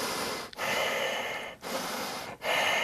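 Deep diaphragm breathing of the kind used in Qigong practice: three long, loud, forceful breaths held close, each broken by a short pause, with no talking.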